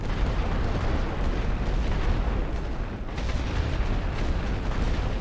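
Heavy artillery barrage in The Great War: Western Front, shells exploding in a dense, continuous rumbling roar with no pauses, loud and close, without any voices.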